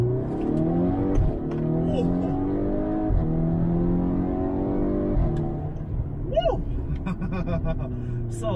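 A Volkswagen Golf 6 R pulls hard at full throttle in sport mode with manual shifting, its engine note climbing steadily and loud up close, with a brief pause in the rise near the middle; talk runs faintly underneath.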